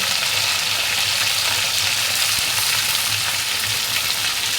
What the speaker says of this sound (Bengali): একই তেলের মধ্যে ফুলকপি আলু ভেজে নেব